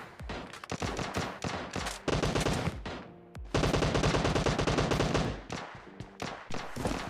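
M4 rifle gunfire in a video game, heard as rapid, loud automatic bursts of sharp cracks with brief pauses between strings of shots, one long sustained burst near the middle and no talking.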